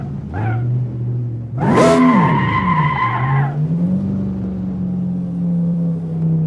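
Car braking hard with all four tires skidding and burning rubber, a loud rising screech of tires over the engine note, then settling into a steady lower hum as it slows.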